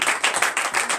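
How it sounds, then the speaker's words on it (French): A church congregation claps in a steady, rhythmic beat during a worship service, loud and close with no talking over it. "Donnez l'acclamation."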